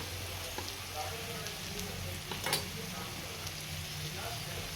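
Onion sautés in a pan with salt and turmeric, giving a steady, close sizzle and crackle with occasional stirring scrapes; a voice talks quietly underneath.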